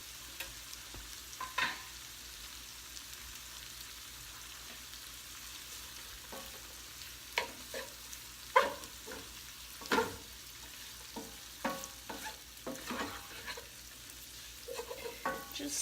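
Green onion stirred in a pan for a shrimp scampi sauce, a quiet steady sizzle under intermittent scraping stirs and utensil taps, no talk.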